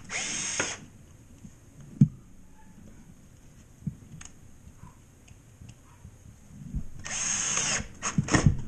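Cordless power drill driving screws into drywall and framing around an attic scuttle hole: a short whirring burst at the start, a couple of faint clicks in between, then a longer, louder run of driving near the end, close by.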